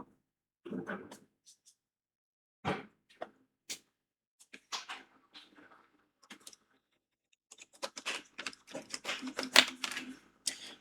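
Bursts of computer keyboard typing are heard up close, sparse and irregular at first and then a denser flurry of clacking keys near the end, with quiet gaps between them.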